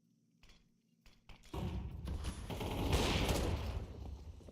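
Rapid gunfire from a competitive shooter video game at a tournament match starts faintly with a few isolated shots, then builds into a dense, sustained burst of overlapping shots, fairly quiet overall.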